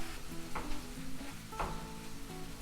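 Ground hamburger meat browning in a pan, a steady close sizzle and crackle with occasional scrapes of a utensil stirring through it.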